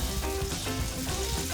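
A salmon fillet sizzles and fries in a hot pan, a steady close crackle of spitting fat with brief bubbling pops throughout, loud and continuous with no voices.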